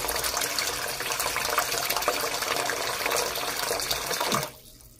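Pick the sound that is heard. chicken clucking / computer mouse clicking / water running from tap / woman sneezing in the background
water running from tap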